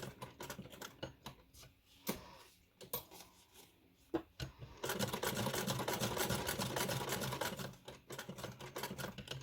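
A sewing machine stitching through the pages of an altered book, running in irregular bursts with a long steady stretch in the middle before slowing to shorter runs.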